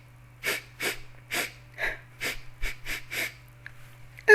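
A narrator's voice imitates a sniffling nose with about eight quick, breathy sniffs in an uneven rhythm, close and moderately loud over a low steady hum.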